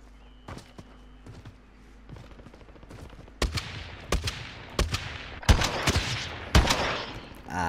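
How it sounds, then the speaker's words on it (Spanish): Explosive ammunition gunfire fills a battle royale video game match, starting with a few sparse distant shots and building into loud, sharp bursts of rapid fire over several seconds. "esta es la munición explosiva"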